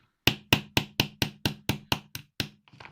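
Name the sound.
hammer tapping pin out of watch link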